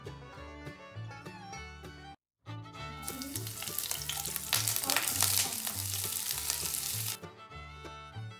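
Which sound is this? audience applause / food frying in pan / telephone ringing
food frying in pan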